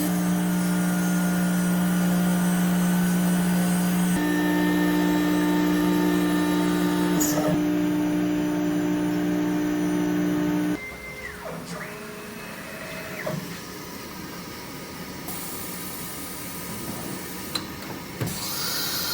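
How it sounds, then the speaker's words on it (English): An AXYZ 4010 ATC CNC router's automatic tool changer rotates to a new tool, giving a loud steady mechanical whine and hum that drops and shifts, with brief speech nearby. "Then the tool changer is going to rotate"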